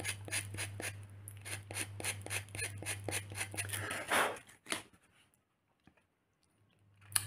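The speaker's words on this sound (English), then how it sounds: "sanding over a few odd bricks." Quick, rhythmic scraping strokes of sanding miniature diorama bricks, close up, repeating back and forth over a low steady hum, then stopping into near silence.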